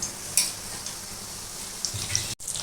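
Pieces of cheesy chicken kebab fry in a pan with a steady, close sizzling hiss, a faint clink or two, and a brief dropout near the end.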